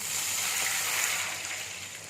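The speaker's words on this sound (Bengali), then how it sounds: "এখানে আমি এক বাটি জল দিচ্ছি" A bowl of water poured into a hot pan over fried cumin, giving a loud steady rushing hiss that fades slightly toward the end, close by and with no talk.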